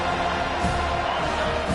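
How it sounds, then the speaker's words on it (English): Stadium crowd noise from a Madden NFL football video game broadcast on third down, a continuous roaring wash of cheering that stays loud and even across the short stretch. "3rd down, and this crowd is tearing the lid off this place."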